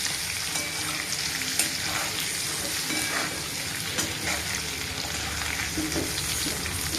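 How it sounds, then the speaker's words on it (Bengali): Potatoes fry in a pan for egg biryani, giving a steady close sizzle and crackle with occasional stirring scrapes, heard on their own without talk. "এই যে আমি একটু আলুটা এখন ভেজে নিচ্ছি।"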